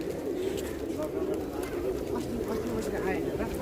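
A flock of pigeons at Boudhanath Stupa in Nepal coos and murmurs steadily nearby, with people talking over the birds.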